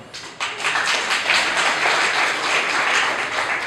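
An audience at a cooperative's general assembly claps steadily for several seconds, a dense, even patter of many hands in a large room.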